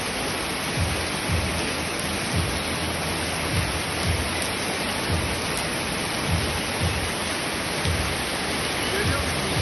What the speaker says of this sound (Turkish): Bali'de ilk günümüz, geldik ve yağmur gördüğünüz gibi inanılmaz. Yağmura yakalandık.